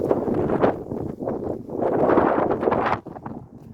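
Strong wind buffets the microphone in loud, continuous gusts, with rustling noise and a brief lull near the end.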